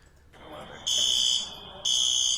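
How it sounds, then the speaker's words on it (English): A false fire alarm sounds in two loud, steady electronic buzzer blasts with a short gap between them, close and harsh, over a low background of room noise. "Your favorite people are on the scene because there's a false fire alarm."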